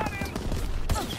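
Light machine gun fire in Rainbow Six rattles in a dense, continuous fusillade of rapid shots, close and loud, with game effects layered over it.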